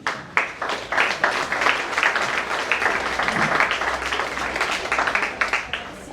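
An audience claps for a young prize winner at a Hindi language event in Saramacca, Suriname, with sharp individual claps at the start building into a sustained, uneven round.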